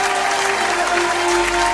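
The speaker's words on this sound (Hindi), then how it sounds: "जोरदार तालियां हो जाए।" An audience at a gospel singing competition show breaks into steady, dense applause that continues without pause through the moment.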